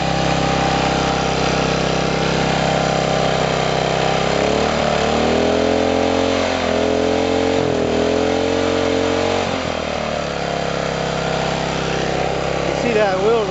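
A flathead four-cycle engine runs steadily with a constant droning hum, its pitch wavering as it revs up and down, close and loud throughout.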